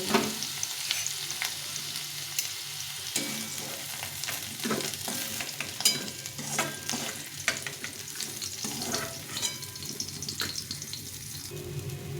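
Capsicum, beans and other vegetables fry in oil in a kadai, a steady sizzle broken by repeated scraping and clattering stirs of a spatula against the pan, heard close and alone.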